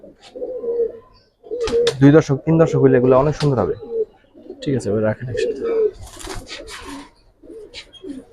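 Giribaz pigeons coo softly in a loft while someone talks over them in Bengali for most of the stretch, the birds' low murmur surfacing in the gaps.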